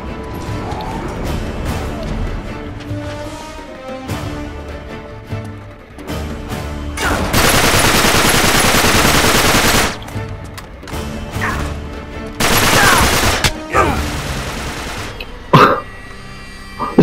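Gunfire and crashes in the remastered Uncharted 3: Drake's Deception: loud bursts of rapid shooting come in long stretches between sharp impacts and smashing hits, with gaps of quieter game sound in between.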